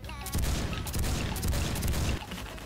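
Rapid, heavy pistol fire from a Desert Eagle .50 cal secondary in Roblox Phantom Forces, several loud booming shots in quick bursts with a short pause between volleys, close and dominant.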